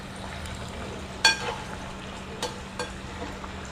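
Urad dal vadas for dahi vada fry in oil over a medium gas flame, a steady soft sizzle with a few sharp clinks and stirring knocks scattered through it.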